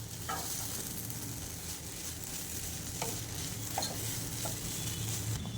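Milk with cardamom powder and milk powder being stirred in a pan for carrot halwa, with a steady low simmering hiss and a few soft spoon scrapes and clinks against the pan throughout.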